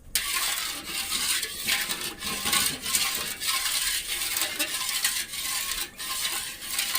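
A spoon stirring a cassava and banana mixture in a pot over medium heat, with repeated scraping strokes and faint clinks in a steady rhythm, close and alone without talking.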